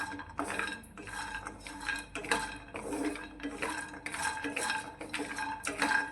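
Black pepper and cardamom pods are dry-roasted in a pan, with a spoon stirring and scraping in quick, repeated clinks and rattles at close range, fairly quiet overall.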